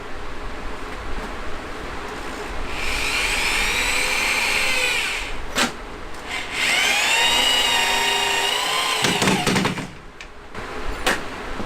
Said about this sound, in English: Now I'm cutting this thing with a skill saw, and well, it didn't go very straight.